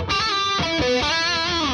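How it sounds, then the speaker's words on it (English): Electric guitar played through a DiMarzio pickup with overdrive, squealing pinch harmonics ringing out over short picked notes, loud and close with no talking. "pinch harmonics are a walkthrough with this pickup"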